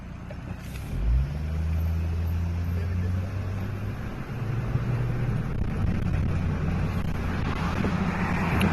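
Cars pass along a road, a vehicle engine rising close by and then rumbling away, with broadband wind noise buffeting the microphone throughout.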